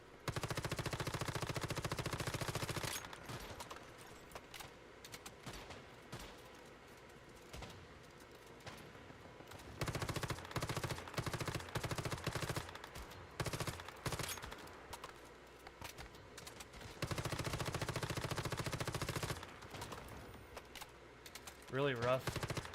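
Gunfire in the video game Once Human, sustained bursts of rapid automatic shooting that stop and restart several times, loud and close, with brief quieter gaps between volleys.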